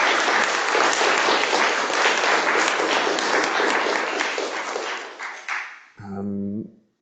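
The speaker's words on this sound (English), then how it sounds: "So I think we should all kind of applaud the organizers." Conference audience applauding the organizers, a dense steady burst of many hands clapping that tapers off after about six seconds, followed by a brief spoken phrase.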